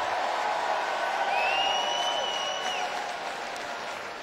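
A crowd at a state high school swimming finals medal ceremony applauds and cheers steadily, a dense wash of clapping that carries loud throughout before easing slightly toward the end.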